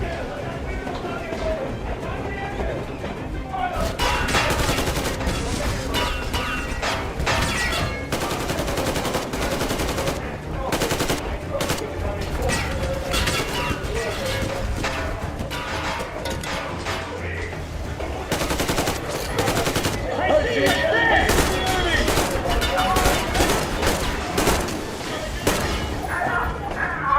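Dense, continuous gunfire rattles through Metro Exodus combat, with rapid overlapping shots and bursts running nearly nonstop at close range while voices shout over the din.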